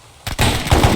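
Gunfire in the video game ArmA 3: after a brief quiet lead-in, a close, loud burst of rapid shots cracks out, followed by a dense, sustained volley with several sharper peaks toward the end.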